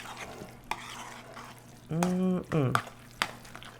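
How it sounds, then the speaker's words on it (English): Onions sauteing in a hot pan, with a steady soft sizzle under stirring scrapes and a few sharp utensil clicks; a brief voiced tone rises midway. "The reason that I like to saute my onions, it just kind of gives them a head start in the cooking process."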